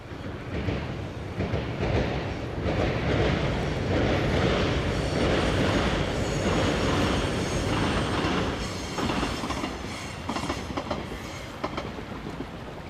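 A train runs on rails with a loud, continuous rumble and rhythmic clickety-clack of the wheels, some faint squealing, building in the middle and easing off toward the end.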